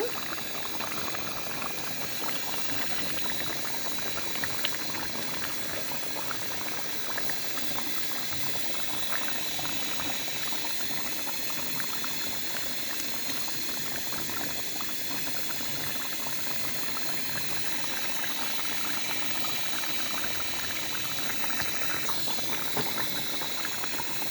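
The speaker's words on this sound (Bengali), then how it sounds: "আলু দিয়ে দিয়েছি, আলু সিদ্ধ হলে নামিয়ে ফেলবো।" Beef and potato curry boils steadily in a pot, a continuous bubbling simmer with soft liquid rattles, close and even throughout with no voices.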